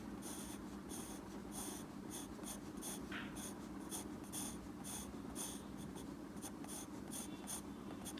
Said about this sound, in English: drawing with the dark pencil